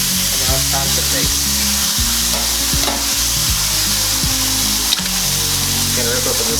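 Wagyu steak sizzles loudly in a hot pan as it is flipped, with steady close frying crackle and a few sharp knocks and thuds of the turn; a low repeating hum runs underneath.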